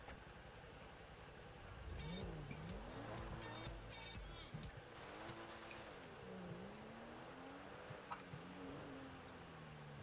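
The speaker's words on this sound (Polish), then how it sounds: "sobie jeszcze trochę pojeździmy w Porsche" A Porsche driven in the video game Grand Theft Auto V, its engine rising and falling in pitch as it accelerates and shifts, steady and moderately faint, with occasional clicks.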